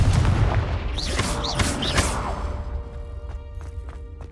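The Confringo blasting spell in Hogwarts Legacy sounds as several sharp magical bursts with whooshing tails in quick succession, followed by fading crackle and echoing impacts, loud and close.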